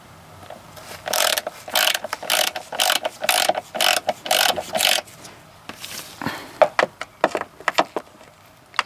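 Ratchet with an 8 mm socket unscrewing a cover on a BMW E36, heard as rapid bursts of close mechanical clicking in rhythmic strokes, followed by a few sharper scattered clicks and knocks as the work finishes, with no talking.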